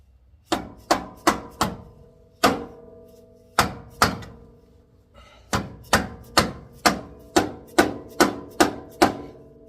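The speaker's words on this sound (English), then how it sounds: "Looks like I need my dead blow hammer." A series of sharp, solid strikes from a dead blow hammer on metal, about sixteen blows in uneven bursts with short pauses, close and loud, while fitting a front lowering kit on a Dodge D100 truck.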